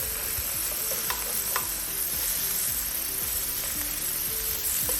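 Turkey slider patties sear in a pan on a stovetop, giving an even, continuous close sizzle with faint high whine and soft scattered pops, no voices.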